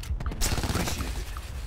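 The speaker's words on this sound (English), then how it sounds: "Who are you shooting at?" Rapid gunfire in Black Ops 4 multiplayer, a quick barrage of shots rattling through a short, fairly faint stretch with a muffled voice beneath.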